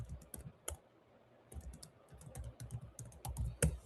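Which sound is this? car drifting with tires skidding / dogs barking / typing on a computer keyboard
typing on a computer keyboard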